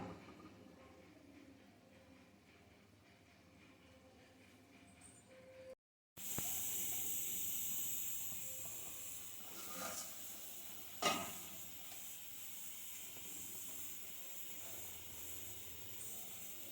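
Fish curry simmering under a lid on a low flame, a soft continuous hiss with faint bubbling, quiet at first, then a little louder after a brief cut, with a few small clicks.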